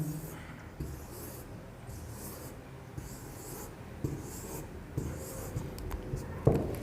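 Marker or chalk strokes on a board during a chemistry lesson on solid-state voids, a steady run of scratchy writing with short pauses and small taps, close and fairly quiet with no talking.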